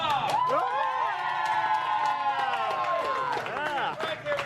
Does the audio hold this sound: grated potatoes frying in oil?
no